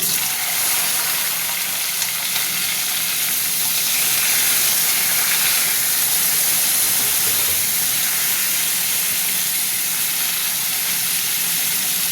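Flat beans hiss and sizzle loudly in hot oil with dried chili and a little sugar, a continuous close frying sound with no talk.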